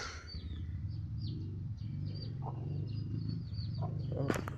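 Pigeons call faintly in the background: soft, short chirpy notes come and go over a low rumble of ambient noise, with a brief brighter burst near the end.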